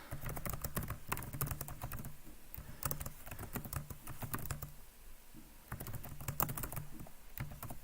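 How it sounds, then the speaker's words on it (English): Rapid, irregular typing on a computer keyboard, with clustered key clicks in bursts and short pauses, close and steady throughout. "Sorry, I'm typing a lot."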